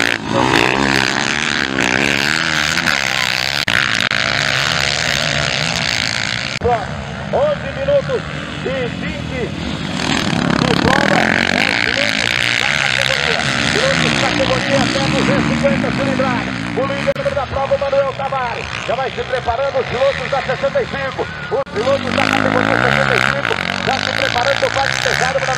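Engines of 250cc motocross bikes race at full power at a velocross round in Aral Moreira, their rising and falling revs roaring beneath a loud excited commentator talking the whole time.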